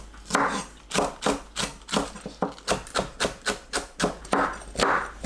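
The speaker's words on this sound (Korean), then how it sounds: "파를 어슷 썰어주세요." A knife slices green onion on a cutting board in a home kitchen, giving a steady series of about a dozen crisp, close chops in even rhythm with no talking.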